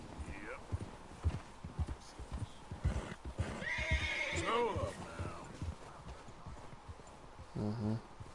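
In Red Dead 2, a horse whinnies loudly and its hooves clip-clop in bursts, with people talking in between.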